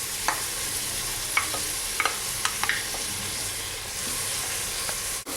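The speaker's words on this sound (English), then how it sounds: "It almost takes 5 minutes to saute these onions" Eight finely chopped onions sauté in a pan for rogan josh, a steady broadband sizzle with a few sharp spoon scrapes and clicks from stirring, fairly close and alone with no voices.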